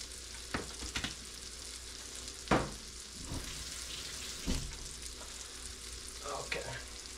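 A venison patty fries in a pan with a quiet, steady sizzle, broken by occasional sharp pops and clinks.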